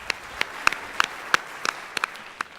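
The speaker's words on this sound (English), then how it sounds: "Please give a huge round of applause for all the parents, mentors, and students that were on the video." Scattered hand claps ring out from a small audience at a Greenwich University convocation, a few distinct, fairly loud claps spaced irregularly rather than a full ovation.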